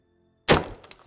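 A single gunshot is fired at a homemade thermal target, a sharp, loud thump from nearby that decays quickly, with a small knock just after, no voices.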